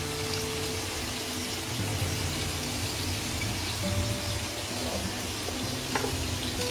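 Water hits a spice paste of cumin powder and tomato frying in hot oil, producing a dense, even sizzle and hiss that carries steadily throughout with no voices.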